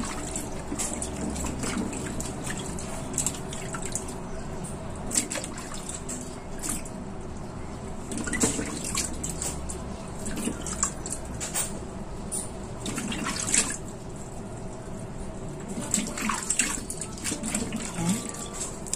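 Seaweed from Sai Kung being rinsed by hand in a basin of water, a steady wet swishing and sloshing with occasional splashes and drips, continuous and close for the whole stretch.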